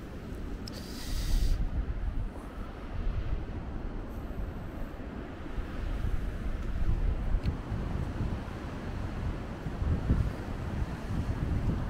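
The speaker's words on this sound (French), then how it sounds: "J'espère que vous n'allez pas trop entendre le vent." Heavy wind buffets the microphone during a drive in a Peugeot 205 in a continuous low rumble with gusty surges, punctuated by a brief crackle near the beginning.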